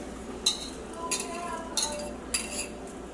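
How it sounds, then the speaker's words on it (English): A spoon scraping and clinking against a cooking pot while tomato paste is stirred in with crushed tomatoes, four distinct metallic strokes spaced about half a second apart over soft kitchen background. "And give this a good little stir"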